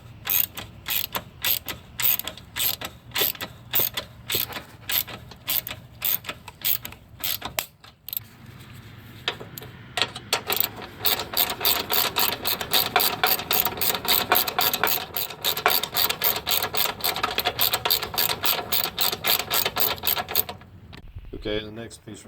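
Quick ratchet clicks drive an 8mm socket onto a bolt holding a computer module on a 2013-2016 Ford Escape 1.6L turbo, in steady close bursts that pause briefly partway through, then resume faster and longer.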